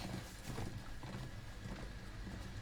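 Horse hooves clip-clop in the Game of Thrones video game, a soft continuous trotting rhythm under a dense, muffled background wash, fairly faint and without speech.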